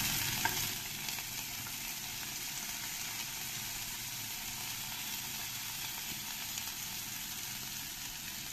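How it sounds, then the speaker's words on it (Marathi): Dry fruits such as cashews and almonds sauté in a small amount of ghee in a pan, a steady soft sizzle with light stirring, quiet and close, with no talking. "ते टाकून मी सगळे ड्रायफ्रुट्स परतून घेणार आहे"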